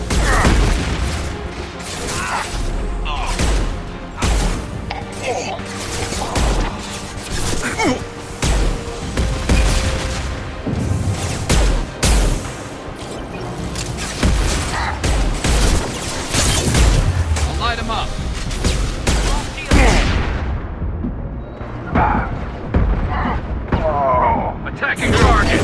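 Gunfire and booming blasts, including a grenade explosion, in Mass Effect 2, loud and nearly continuous with dense bursts of shots and heavy thuds, tailing off near the end as a voice speaks over the combat.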